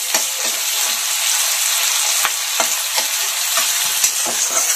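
Chopped garlic, ginger, six or seven dried chillies and tomato fry in a hot pan with a steady close sizzle, broken by repeated scraping taps of a spatula as the mix is stirred. No one speaks.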